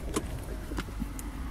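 Low, steady rumble inside a car driving home, with a few faint clicks and small rattles over the road drone and no voices.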